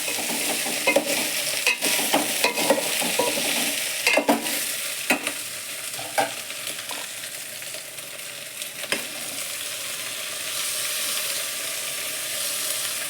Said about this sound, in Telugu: ఇప్పుడు మనం దీనిలోనికి సన్నగా కోసి పెట్టుకున్నటువంటి టమాటా ముక్కలను వేసుకుందాం